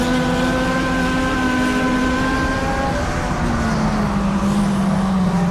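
Race cars roaring down the back straight of an oval short-track dirt bullring, a loud, steady engine drone whose pitch holds and then slowly falls as the pack passes, continuous with no speech.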